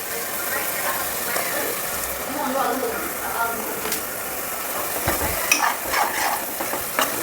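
Chicken with onions, turmeric and salt stirred in a hot pan, a continuous sizzle with clinks and scrapes of a spoon against the pan, close and moderately loud, with faint voices in the background.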